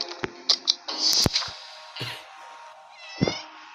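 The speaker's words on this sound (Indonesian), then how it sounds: "Oke, ada suara kucing." A few short cat meows in the video game 60 Seconds! Reatomized, fairly close, with small clicks and ticks between them and a brief pause in the middle.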